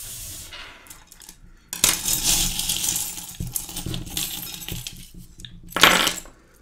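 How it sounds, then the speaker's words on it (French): Divination charms cast and clinking during a reading: a loud, bright metallic rattle of small pieces tumbling together at close range for several seconds, then a second sharp burst of clinks near the end, with no talking. "On va prendre les breloques."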